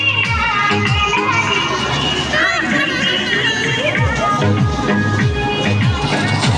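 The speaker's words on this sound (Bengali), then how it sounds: "বড় মানুষের ভিড়।" Dense, constant crowd babble at a busy fairground with rides at Sarighat, many overlapping voices and bustle with no single sound standing out.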